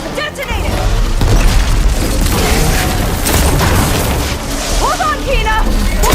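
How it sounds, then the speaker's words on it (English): Canister detonation in the video game Horizon Forbidden West: Burning Shores, a loud sustained booming blast amid battle noise and machine sounds, with voices calling over it. "Canister's left on! Detonate it!"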